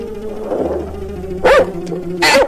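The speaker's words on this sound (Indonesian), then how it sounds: "Aduh, anjing gonggong." A dog barks twice, sharp and close, over a low background hum.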